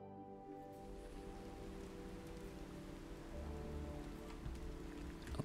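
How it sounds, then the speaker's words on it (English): Rain in the video game Lumberjack's Dynasty, a dense, steady hiss of drops falling on surfaces, continuous and enveloping with a faint low tonal hum beneath, growing slightly fuller toward the end. "I do like the particle effects for the rain though"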